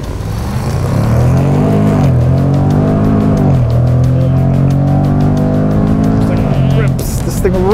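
2024 Jaguar F-Pace SVR launching hard in dynamic mode, the engine roaring up through rising revs with quick gear changes and crackles, loud and close inside the cabin.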